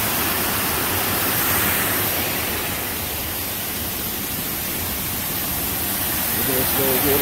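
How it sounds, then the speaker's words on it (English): A small waterfall at a resort pool in Mismaloya, Mexico, pours with a steady, broad rushing hiss that fills the air, close and loud, while a voice speaks briefly near the end. "This little waterfall"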